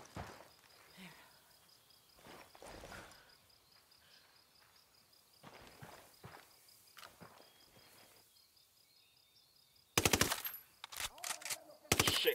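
Video game gunfire aimed at cartel narco enemies, heard as a faint, scattered run of distant shots with insect-like ambience behind it, ending in loud, sharp rapid bursts near the close.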